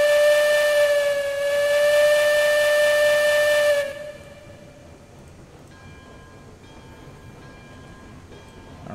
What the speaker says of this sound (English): Might as well hit the whistle.